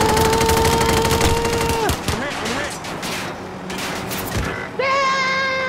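Enemy gunfire in a video game comes as dense rattling bursts under tonal game sounds, loud and close, easing in the middle and then resuming.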